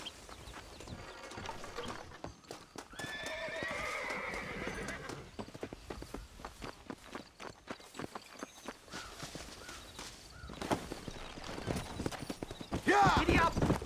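Horse in the video game Red Dead Redemption whinnying, then galloping with steady clip-clop hoofbeats amid game sound, with voices talking over it.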